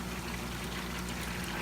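Water spills over the edge of a sandbox overflow filter, a steady, soft trickling pour with a constant low hum underneath.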